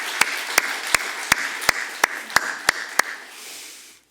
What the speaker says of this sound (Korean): 선생님들 격려하는 박수 한번 하겠습니다.